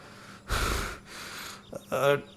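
Heavy, ragged breaths: two long gasping inhales and exhales, then a shaky voiced pant, close and loud.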